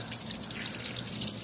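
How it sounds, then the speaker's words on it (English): Water runs full blast from a faucet and flushes through a car heater core. It makes a steady, hissing, splashing rush at moderate volume, with no voices. "Okay, I got the faucet turned full blast,"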